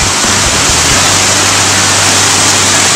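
Steady, loud broadband rush of stream water flowing near a waterfall at a creek crossing, continuous and close with no pauses and no voices.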